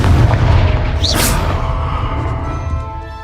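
Confringo fire spell cast in Hogwarts Legacy, a loud booming blast with a sharp crack near the one-second mark, then a rumbling tail that fades over the next couple of seconds.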